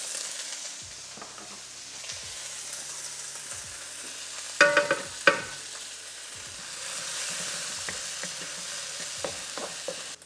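Carrots and corn, with garlic, stir-fry in a hot pan, a soft continuous sizzle broken by occasional scraping and tapping of a utensil, with one sharper clatter midway.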